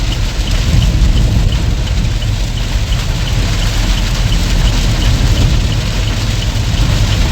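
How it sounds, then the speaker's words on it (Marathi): Heavy monsoon rain pours down during a drive through Mumbai traffic, a loud, steady wash of rain over a low engine hum that never lets up. "मुंबईमध्ये पण एवढा बेकार पाऊस."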